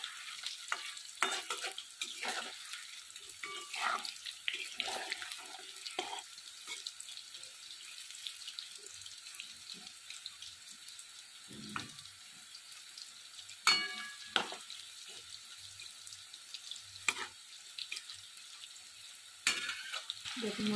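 Soy chunks frying in a pan at home for chili soya, a quiet sizzle broken by repeated scraping and stirring clatters, with louder utensil knocks now and then and no talking.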